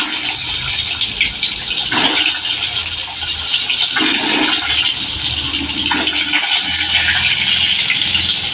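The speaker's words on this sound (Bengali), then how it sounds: "প্রথমে ডিমগুলা ভাজি।" Eggs frying in hot oil in a wok, a loud, dense, crackling sizzle that runs the whole time with a few surges in intensity, close up and with no speech.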